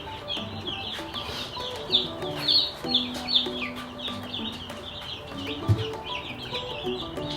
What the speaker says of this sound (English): there are chicks on the feeder